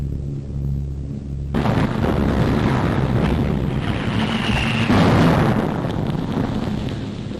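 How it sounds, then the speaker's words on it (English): Bomb blast during the London Blitz in wartime London: a sudden, loud, broadband roar that swells into a sustained rumble and lingers for several seconds, with no voices. "That was a bomb."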